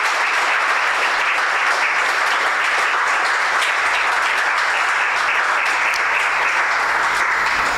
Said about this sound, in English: I think they deserve a really big round of applause.